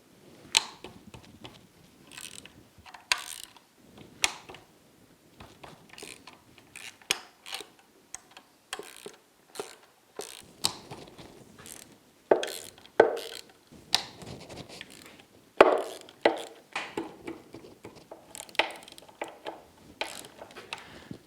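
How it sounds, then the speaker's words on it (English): A ratchet works loose the carburetor bolts on a Yamaha 90 outboard motor, giving scattered crisp clicking bursts and short pawl rattles with pauses between strokes, close and moderately quiet, no voices. "now we're going to start unbolting the carburetors"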